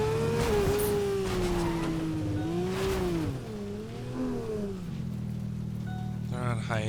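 A broken car driven in the Fortnite video game, a steady engine drone rising and falling in pitch with revs, close and continuous, while players talk over it.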